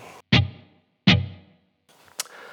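An electric guitar through a Blackstar Amped 1 set to room reverb, two sharp distorted stabs each ringing out and decaying, then a softer, scratchier strum near the end.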